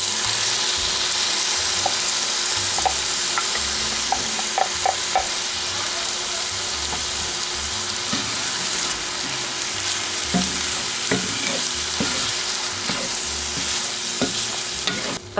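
Ground beef and green pepper frying in a pan, a steady close sizzle with occasional scraping stirs and clicks, no talking.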